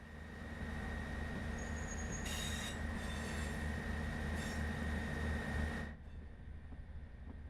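A Class 158 diesel multiple unit departs Manchester Victoria in a Train Sim World setting, its steady engine drone and rolling rumble loud and continuous, with brief higher squeals partway through before the sound cuts off near the end.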